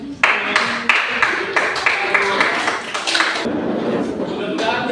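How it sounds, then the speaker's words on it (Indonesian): A classroom audience welcomes group 4 with scattered, uneven clapping under ongoing talk, rhythmic handclaps standing out near the microphone. "kita jemput kelompok 4 dengan tepuk tangan"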